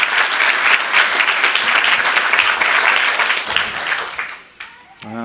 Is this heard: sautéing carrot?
no